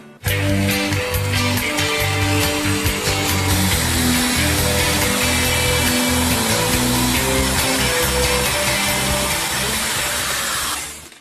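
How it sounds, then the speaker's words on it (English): A power drill whirs steadily with a paint-stirring attachment mixing lumpy paint, a loud continuous motor hum with churning, slapping mixing noise, running nonstop before cutting off. "What I have is a paint stirring attachment for a drill."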